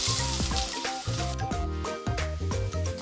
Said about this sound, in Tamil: இப்போ வந்து ஒரு சின்ன துண்டு பட்டை, அந்த அன்னாசி பூ சொல்லுவோம்ல, அது போட்டுக்கலாம்.